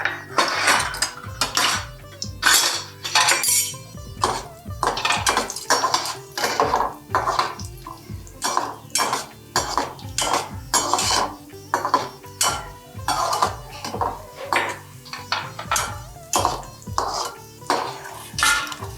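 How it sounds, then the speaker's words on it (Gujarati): Cashews sautéed in hot ghee in a pan, stirred with a metal spoon that scrapes and clinks against the pan in a steady repeating rhythm, close and moderately loud, with no talk. "હવે આપણે એમાં કાજુ સાંતળી લેશું."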